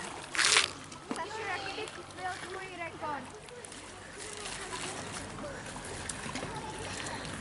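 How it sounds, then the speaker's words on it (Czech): Children splashing in calm river water, with bursts of splashing and sloshing over steady flowing water, voices of people talking in the background. "Děcka si tady počachají trošku."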